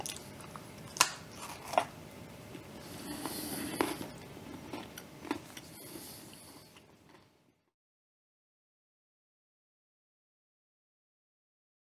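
Someone bites and chews homemade Wagon Wheel cookies made with chocolate, toffee, cookie and a creamy filling, giving a few close crunchy snaps and chewing for several seconds before it goes silent.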